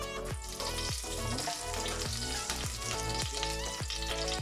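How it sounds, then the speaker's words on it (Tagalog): Oil sizzles loudly and steadily in a pan while beef goulash is cooked, with a constant frying hiss and occasional clattering knocks on top. There is no talking. "we just need to add oil"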